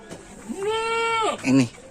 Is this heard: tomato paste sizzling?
no